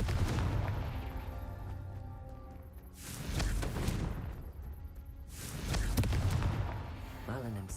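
Confringo blasting spells in Hogwarts Legacy burst in two loud explosive whooshes with rumbling low end, each followed by a decaying roar, over a constant game backdrop.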